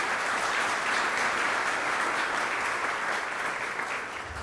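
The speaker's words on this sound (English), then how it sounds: "A round of applause for our sponsors." Audience applause for sponsors at a Greater Manchester Chamber State of the School District event, a steady, fairly loud clapping from a room full of people, tapering slightly at the end.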